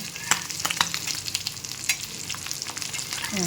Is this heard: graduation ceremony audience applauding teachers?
no